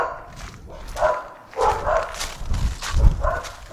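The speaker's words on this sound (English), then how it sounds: "Some dogs in a yard." Several dogs bark from a yard outdoors, a few separate bursts of barking at moderate distance, with light ambient street noise and faint footsteps between them.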